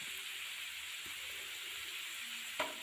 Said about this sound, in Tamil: இப்போ வெங்காயம் வந்து நல்லா உங்களுக்கு கோல்டன் ப்ரௌன் வர வரைக்கும் நம்ம நல்லா இதை வந்து வதக்கி விட்டுடலாம்